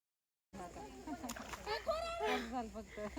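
Irrigation water splashes and sloshes as it flows into a freshly sown fodder field, a steady wet rush heard close under the overlapping voices of people talking throughout.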